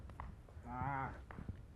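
A bull with a sore throat lets out one drawn-out, strained moo, close and fairly loud, over a rough background of low rumbling noise.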